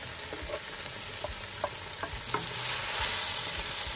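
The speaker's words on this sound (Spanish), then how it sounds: "Ahí lo vamos a dejar un ratito que se fría bien todo esto." Chopped tomato and chiles fry with softened onion in a pan, a continuous close sizzle broken by scattered clicks and scrapes of stirring, swelling slightly louder toward the end.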